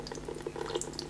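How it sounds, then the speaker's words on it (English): Water runs steadily from the lower hole of a Mariotte siphon, a continuous close trickle and splash with small bubbly pops throughout. "Water's running out of the lower hole, and we've got air bubbles popping out of this siphon tube."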